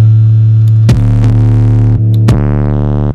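A guitar amp distorted through the Heavy preset of Ableton's Amp device holds a loud, buzzy, sustained tone with a thick low hum, broken by a few sharp clicks before the sound thins out near the end.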